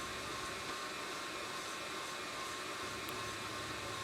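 A Fresh Roast SR540 coffee roaster with an extension tube runs its fan at a high setting on low heat while roasting beans, giving a steady, loud, broadband airy whoosh that holds constant throughout.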